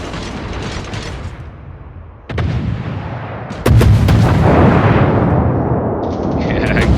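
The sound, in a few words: naval guns firing on a target in a video game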